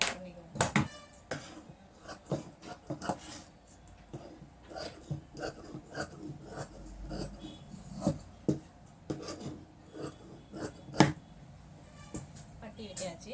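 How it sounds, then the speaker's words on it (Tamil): Fabric strip being cut for a blouse with scissors, a run of short crisp snips and rustles spread throughout, close and fairly quiet, with some speech mixed in. "பட்டியை கட் பண்ணிக்குவோம்."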